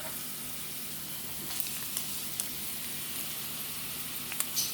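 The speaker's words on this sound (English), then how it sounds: "once the oil's heated up, I want to throw in the minced onion" Minced white onion fries in hot oil for red rice, making a soft, even sizzling hiss with a few faint pops and clicks. It is quiet and steady, with no voices.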